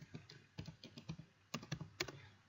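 Quiet computer keyboard typing of an NMAP command at a command line, a run of light, irregular key clicks in short bursts with a few firmer taps, close and alone.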